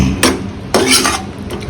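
Chicken drumsticks stirred in a pan: three sharp metallic scrapes of a utensil against the pan, loud and close, with quiet gaps between and no talk.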